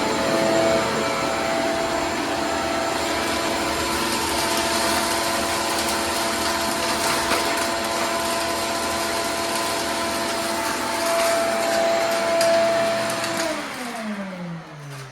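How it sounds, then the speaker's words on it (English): Tunnel machine drilling a hole through a wall for a 2-inch plumbing pipe during a bathroom addition, a loud steady motor whine held for many seconds before spinning down at the end. "in order to dig the hole through there to get the pipe in, I'm using my tunnel machine."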